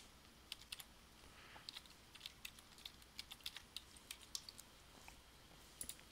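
Quiet, rapid clicks of computer keys being typed in short irregular bursts over a faint steady background hiss, with no voices.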